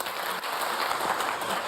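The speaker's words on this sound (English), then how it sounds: "Yeah, this is your applause." Conference audience applauding at a SCION networking event as a guest is called on stage, a dense, even wash of clapping throughout the short stretch.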